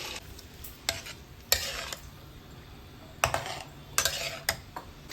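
Masala-marinated chicken with cardamom frying in a pan, a soft steady sizzle broken by the sharp scrape and clink of a utensil stirring against the metal, quiet and close.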